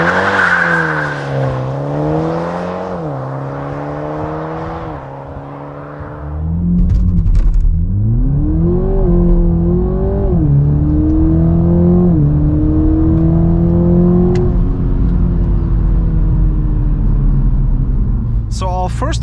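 A 2021 Toyota Supra 2.0 with 258 hp launches hard from a standstill on a country road, its engine revving up through several rising gear pulls with a loud, steady exhaust drone and a brief tire scrabble.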